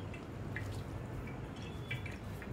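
Excess water drips from curd tied in muslin cloth while making homemade shrikhand, faint soft drops falling at irregular intervals in a quiet room.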